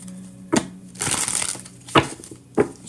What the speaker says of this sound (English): Shuffling for David.